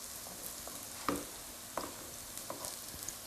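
Sweet corn fritters fry in a pan on a stovetop, giving a steady low sizzle broken by a few sharp spits and crackles, fairly quiet and with no talk.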